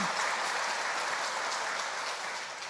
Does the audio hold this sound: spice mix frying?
no